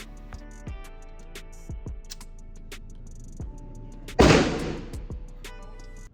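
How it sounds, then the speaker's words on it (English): An FN CC Edge XL pistol with a compensator fires several sharp shots at spaced intervals, with one louder, longer blast near the end, outdoors with faint ticking between reports. "Now I'm speeding these shots up, but I want you to know the comp is comping."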